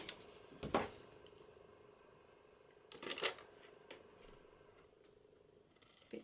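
Scissors cutting paper from a window envelope in a journaling craft session, a few quiet, close snips and paper rustles with pauses between them.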